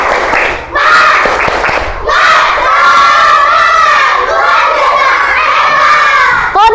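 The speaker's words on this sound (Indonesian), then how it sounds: "Sebelumnya Bu Rina mau kalian tepuk semangat dulu" A class of schoolchildren in an Indonesian lesson loudly chant a rhythmic spirit-clap cheer together, their voices close and continuous, with claps at the start, a brief dip near the first second, and a short final shout.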